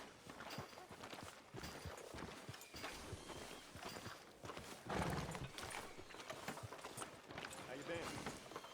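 A horse in Red Dead Redemption 2 clip-clops along at a walk, its hooves a steady soft patter beneath faint ambient game sound, with voices talking over it.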